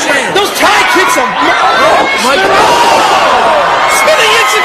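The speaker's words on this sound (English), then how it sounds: "The crowd's going crazy, folks." A wrestling crowd at an EXW event roars and whoops continuously and loudly, a dense wall of cheering and shouting with a commentator's voice over it.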